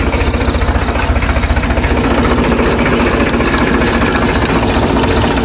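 A farm tractor idles close by, a loud, steady diesel chug with a fast, even throbbing pulse and rattling vibration that holds unchanged throughout, with no voices.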